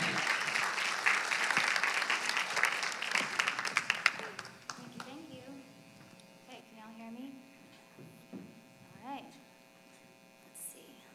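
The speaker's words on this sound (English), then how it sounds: "So let's give her a hand clap as she comes to minister." Audience in a church gathering claps for speaker Joy Bollinger, a burst of fairly loud applause that fades after about four seconds into room hum and a voice talking.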